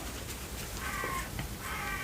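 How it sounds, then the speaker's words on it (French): Birds call outside in a few brief, harmonic bursts over soft background hiss, fairly faint and distant, with a sharper louder call at the very end. "Et on entend bien les oiseaux."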